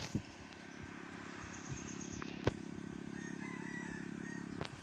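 A rooster crows at a distance against a steady background hum, with a couple of sharp knocks partway through.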